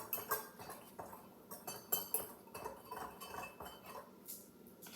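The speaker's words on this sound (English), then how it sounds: "we're gonna whisk that together." A whisk taps and clinks against a bowl while cocoa powder and dry ingredients for red velvet cupcakes are mixed, a quiet, irregular run of light metallic strikes close by.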